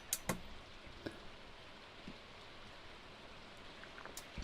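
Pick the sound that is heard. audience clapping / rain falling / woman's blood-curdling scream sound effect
rain falling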